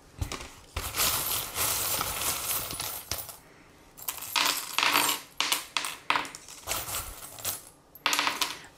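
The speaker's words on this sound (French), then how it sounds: "Alors ici nous avons la pièce de monnaie" A coin charm drops onto a table during a tarot-style card reading, giving a run of bright metallic clinks and rattles. The handling taps and jingles come and go in close, clustered bursts.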